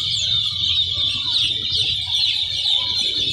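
Broiler chicks on a poultry farm, a dense, continuous chorus of high-pitched cheeping that fills the whole stretch, steady and close, with no talk over it.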